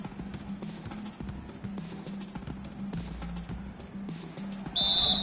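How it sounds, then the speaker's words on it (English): A shrill referee's whistle cuts in near the end of a stretch of quiet basketball video game court noise with squeaks and soft thuds, one short loud blast that stands out clearly. "heard the whistle and then kept his focus and able to still knock it down"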